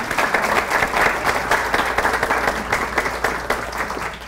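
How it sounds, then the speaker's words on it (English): Steady audience applause at a history talk, a dense continuous wash of many hands clapping at moderate loudness, sustained throughout with no voice over it. "Everyone give her a round of applause."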